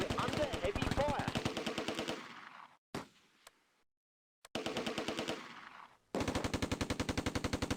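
Heavy bursts of rapid machine-gun fire in the Close Combat war game, loud sustained rattling volleys that cut off into near silence with a few isolated shots, then resume at full intensity.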